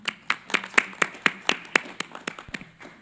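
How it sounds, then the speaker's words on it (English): Scattered clapping from a small group at a UN STI Forum side event, individual claps distinct and irregular, fairly close, fading slightly toward the end. "One more round of applause for the organizers here today."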